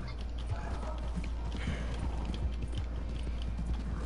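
Hooves clatter in a fast, steady gallop from a horse in Red Dead Online, close and continuous with a rolling rhythmic beat and faint creaking of tack underneath.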